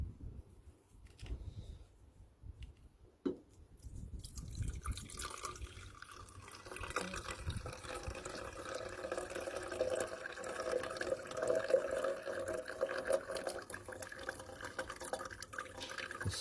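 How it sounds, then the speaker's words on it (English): Solution from a copper-based silver recovery poured off a container, a quiet then building watery trickle and splash lasting several seconds, close by and without talk. "I'm going to pour off the solution"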